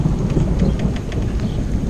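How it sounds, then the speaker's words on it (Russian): Steady rain falling outside at a training camp, a dense even patter close by with a low rumble underneath, continuous and without talk. "У нас сегодня идет дождь."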